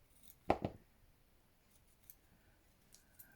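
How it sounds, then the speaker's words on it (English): Scissors snip around a fabric flower cut from an old dress, two quick close cuts followed by faint small handling sounds in an otherwise quiet room. "I'm gonna snip around this"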